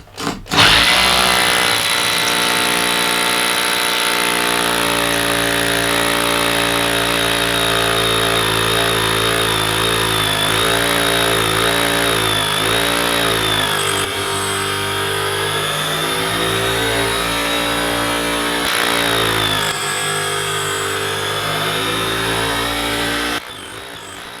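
A power drill bores holes into concrete for anchor bolts, a loud, steady, continuous whine and grind that holds for over twenty seconds without a break and then cuts off, with no talking.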